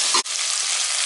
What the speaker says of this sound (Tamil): காய், தக்காளி எல்லாமே நல்லா வதங்கட்டும்.